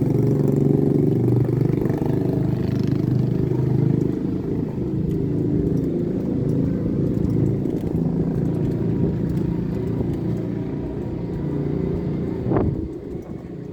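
A small scooter engine rumbles steadily and loudly as it passes on the road, holding a continuous drone with a brief sharp rise near the end.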